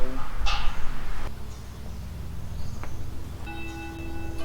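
A school bell at Ban Phai Phitthayakom school rings in the second half as a steady, sustained tone. It sounds over a noisy outdoor background with a brief sharp knock earlier.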